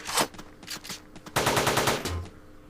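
Guards in the top-down shooter Teleglitch fire assault rifles in quick rattling bursts, a sparse volley at first, then a dense loud stretch of rapid automatic fire that trails off.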